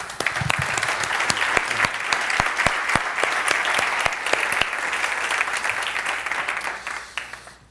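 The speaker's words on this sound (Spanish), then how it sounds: "Un aplauso para él." Steady applause from a crowd, many hands clapping continuously with a few sharper claps standing out, fading slightly at the very end.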